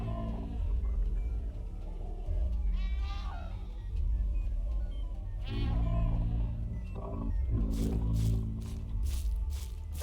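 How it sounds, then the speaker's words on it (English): Hunting horn blown by the shadowman in the video game Madam You Are Being Hunted: a few wavering, bleat-like horn calls at moderate distance over a low rumble, with sharp clicking bursts near the end and no talk. "That sound is the shadowman wandering around with the hunting horn."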